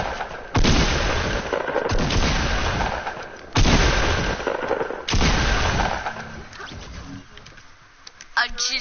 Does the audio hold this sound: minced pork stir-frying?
no